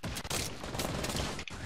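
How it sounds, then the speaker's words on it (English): Rapid bursts of gunfire in a Fortnite Battle Royale 2v2 match, loud overlapping shots crackling densely for under two seconds with no talking. "There's so many shots, dude."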